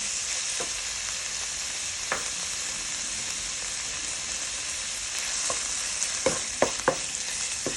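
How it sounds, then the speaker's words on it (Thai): Pork and garlic stir-fry in a hot pan with a steady, dense hiss of sizzling oil, broken by a few sharp spatula taps and scrapes, especially toward the end. "วนหมูลงไปผัดกับกระเทียมนะคะ"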